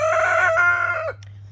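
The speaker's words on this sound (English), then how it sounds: "I automatically wake up about the time he started crowing in the morning" A rooster crows once in the yard, a loud, close cock-a-doodle-doo with a strained, wavering tail, then quiet.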